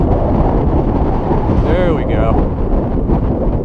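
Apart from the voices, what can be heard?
strong wind blowing over the microphone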